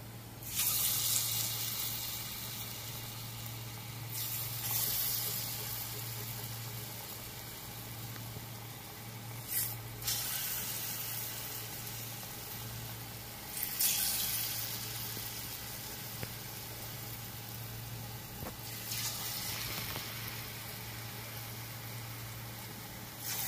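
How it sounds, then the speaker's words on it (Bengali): Palm fritters (taler bora) drop one by one into smoking hot oil, giving a soft, steady sizzle that swells in brief louder bursts every few seconds, heard faintly and alone. "এবার এর মধ্যে আমি একে একে তালের বড়াগুলো ভাজতে দেব।"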